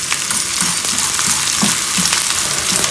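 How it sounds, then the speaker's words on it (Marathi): Edible gum (dink) frying in hot ghee in a small pan, a loud, dense sizzle with crackling pops and periodic stirring scrapes, close and continuous with no voices. "तुपामध्ये डिंक हा तळून घ्यायचा आहे"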